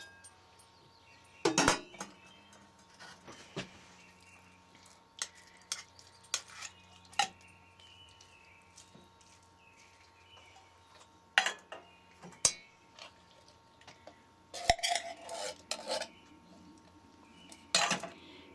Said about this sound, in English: The rice is done, so I'm going to add the ham and the beans.